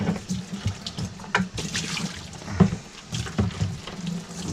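Running water splashes and swishes steadily as an aquarium is rinsed and filled, with close, uneven sloshing throughout.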